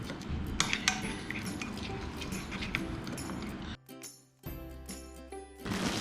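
A spoon mixing chicken marinade with mustard in a bowl, brisk clinks and scraping taps of metal against the dish, near and irregular, with a brief quiet gap before the stirring resumes.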